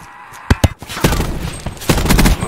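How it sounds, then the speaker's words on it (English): In PUBG, a few sharp single shots ring out first, followed by heavier overlapping bursts of gunfire, loud and close. "Hey man, somebody out here shooting at me"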